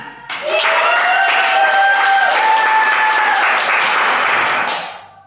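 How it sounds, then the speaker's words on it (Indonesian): A burst of clapping from a crowd, loud and steady for about five seconds, with a thin whistling tone running through it before fading out. "Tepuk tangan."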